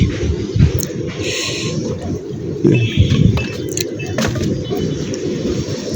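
Pigeons coo in the morning, the soft low calls partly buried in a constant rough background rumble, with a few brief higher knocks.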